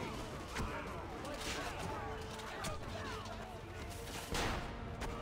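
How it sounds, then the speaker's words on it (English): Gunfire in the video game Assassin's Creed Revelations, a tower-defense battle with cannons and riflemen, heard as repeated sharp shots and booming blasts over a dense, busy battle din, with a louder burst near the end. "I didn't mean to shoot my gun. I was trying to shoot the cannon."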